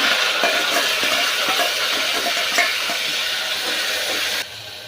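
Black pepper and cumin splutter in hot oil, then tomatoes and green chillies go in: a loud, continuous frying sizzle with crackles and stirring scrapes, dropping abruptly quieter near the end.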